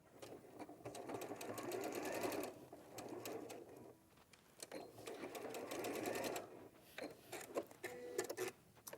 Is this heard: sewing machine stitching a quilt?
yes